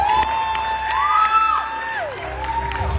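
Seminar audience at a national leadership event clapping and cheering together, a steady crowd roar with whoops, while a tonal musical line runs through the whole short burst.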